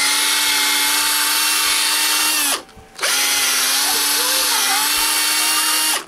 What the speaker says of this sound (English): Nope, I'm polishing something.